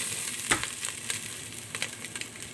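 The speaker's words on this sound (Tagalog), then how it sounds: "Gigisahin na natin yung ating sibuyas" Onions sauté in a pan with olive oil and butter for roast meat, a close, steady sizzle broken by scattered crackles and stirring clicks, with no talk.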